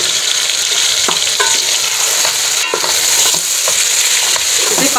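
About a kilo of meat frying with salt for achari biryani, loud close sizzling with repeated scraping and stirring of a spoon in the pot, continuous for a few seconds.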